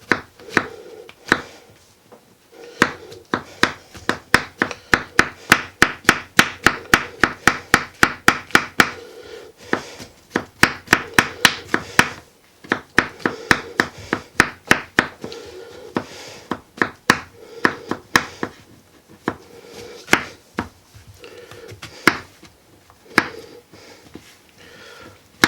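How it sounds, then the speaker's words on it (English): Mushrooms being chopped with a knife on a cutting board: steady runs of crisp, close knocks in quick rhythm, broken by short pauses, alone with no talk. "now we're gonna chop these mushrooms up"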